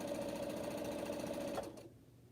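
A sewing machine stitches quilt four-patch blocks in a steady, fast mechanical whir that runs close and loud for about a second and a half, then stops, leaving a quieter tail with no voices.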